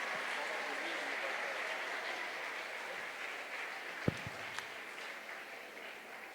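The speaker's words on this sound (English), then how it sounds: "From the prolonged clap, I can understand how much you are relieved." Audience at a book launch clapping in a broad, fairly faint wash of steady applause, heard from a distance in a large room, with a couple of sharp knocks near the end.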